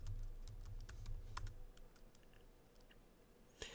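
A computer keyboard clicks through a quick run of key presses as a password is typed on a Mac, ending with one firmer keystroke.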